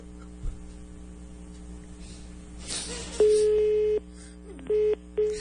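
A telephone busy signal sounds during a phone call as a loud, steady tone that starts, cuts off, then returns in two shorter bursts, over faint line hum and a rustle.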